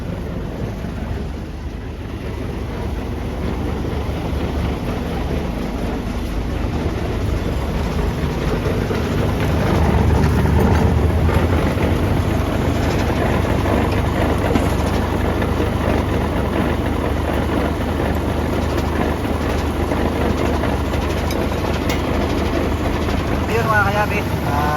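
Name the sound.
6WG1 diesel engine running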